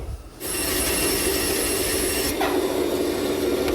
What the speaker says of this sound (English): Now the bandsaw blade cuts right through this soft brass like it's butter.